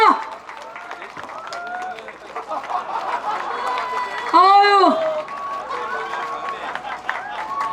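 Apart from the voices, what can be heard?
crowd applauding at outdoor campaign speech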